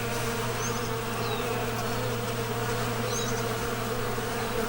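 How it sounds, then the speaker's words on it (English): Bees buzz steadily and up close around spring garden flowers. The drone is dense and continuous, with a few individual insects whining past, and no voices. "The bees are really loving these flowers"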